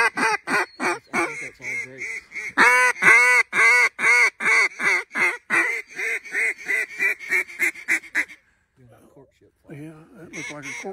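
Ducks at a hunting spot give a long, rapid series of loud, nasal quacks in a steady rhythm that speeds up and then tapers off. A few faint, scattered calls follow.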